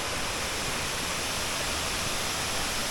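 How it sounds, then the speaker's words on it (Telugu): Mahithapuram waterfall roaring with a steady, dense broadband rush of falling water, loud and unbroken throughout with no voices. "ఇక్కడ కనిపిస్తుంది వాటర్ ఫాల్."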